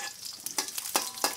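Oil sizzles and crackles steadily as fried shallots cook, with a few brief stirring scrapes over the hiss.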